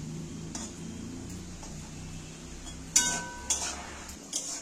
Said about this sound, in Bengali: করলাগুলোকে নাড়াচাড়া করতে করতে ভালো করে সুন্দর করে একদম নিরস করে ভাজা হয়ে গেছে